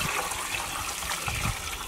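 Homemade chicken broth poured through a strainer: a short, steady rush of liquid splashing and trickling, close and continuous.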